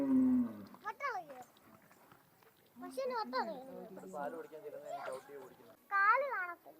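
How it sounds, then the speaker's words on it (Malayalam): A cow lowing near a roadside on a hill-station trip, a few long drawn-out moos close by, interleaved with a voice and adults talking. "കുതിരല്ലടി അത് പശു"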